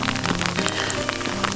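Small hailstones pelting down in a hailstorm on a mountain trail in the Great Smoky Mountains, a dense, steady patter of tiny close impacts with no voices.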